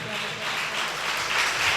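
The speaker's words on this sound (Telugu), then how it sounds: "అందును బట్టి కూడా చప్పట్లు కొట్టాలి" A church congregation claps together in a dense, steady patter that runs the whole stretch at a moderate, somewhat distant level, with a voice mixed in underneath.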